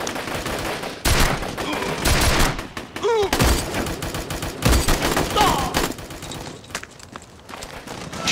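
Battle scene in a Turkish TV drama with a sustained barrage of gunfire, rapid overlapping shots and bursts, some ricochet whines, loud and continuous with brief lulls, shouted voices faint beneath.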